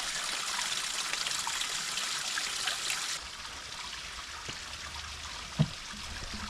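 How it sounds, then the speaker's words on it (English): Water in a stream flows with a constant, moderately distant rushing hiss along a hiking trail near North Carolina waterfalls, the texture shifting slightly partway through, with a brief soft knock near the end. "Can you hear the water?"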